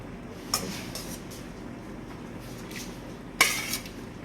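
A utensil scrapes and clinks against a pan while beef is slowly raked into sauce for beef stroganoff, giving two sharp metallic knocks with softer scraping between them.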